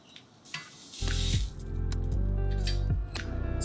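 Fish and shrimp for bouillabaisse hit a hot pan with a sudden loud sizzle that burst in after a quiet start, followed by sustained spattering hiss and a couple of sharp crackling flares.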